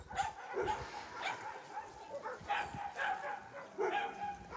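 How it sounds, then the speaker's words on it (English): A dog at a rescue shelter barks and yips in short, scattered bursts close by, mixed with whimpering sounds, and no one speaks. "Oh, Jimmy, he's barking on me"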